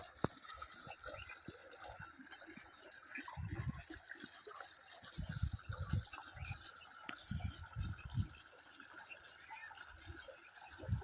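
Irrigation water flows steadily through a sugarcane field, a continuous soft gushing wash with occasional louder splashes, while faint birds call in the distance.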